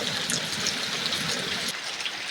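Steady rain falls continuously, a dense broadband hiss with occasional brighter drop splashes, fairly close and even in level throughout, with no voices.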